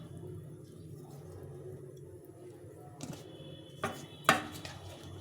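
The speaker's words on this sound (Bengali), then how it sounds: "মাছটা একটু ভালো করে কেটে নিতে হবে" A knife chopping through fish into thick pieces in a home kitchen, a few soft cuts then two louder chops near the end against a low background hum.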